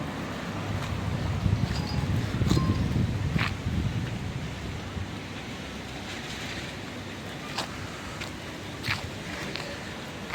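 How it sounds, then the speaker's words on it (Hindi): Strong wind gusts blow through an outdoor camp at Mesaieed, Qatar during a dust storm, a rough roaring rush with buffeting on the microphone, heaviest early and easing later, with scattered faint clicks. "कितनी तेज़ हवा चल रही है"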